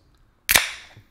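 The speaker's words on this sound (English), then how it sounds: "That's the sound of me cracking open a can of bubbly water." A can of sparkling water being cracked open, a single sharp pop and hiss that tails off over about half a second, close and fairly loud, with no talking.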